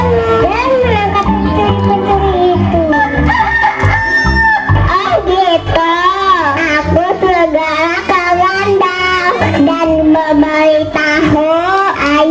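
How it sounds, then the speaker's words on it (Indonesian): Chickens on a farm in a musical drama crow and cluck together, with repeated overlapping cock-a-doodle-doo calls layered under a voice talking throughout, loud and close. "Mereka pun berkokok bersama-sama untuk membangunkan Pak"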